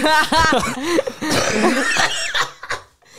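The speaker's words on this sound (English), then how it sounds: "you sounded like an old man who like can't breathe anymore, has trouble coughing" Someone coughs and clears their throat several times in quick, harsh bursts, close to the microphone.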